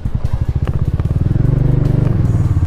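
A Royal Enfield Meteor 350 motorcycle engine revs under acceleration while riding, a loud, close, steady thumping single-cylinder beat that climbs slightly in pitch as the bike speeds up.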